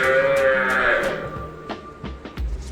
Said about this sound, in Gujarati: અમારી સુવર્ણ કપિલા ગાય